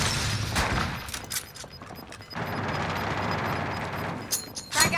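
Gunfire in a Call of Duty match: scattered shots and booming blasts come in bursts, with quieter gaps and a final cluster of sharp reports.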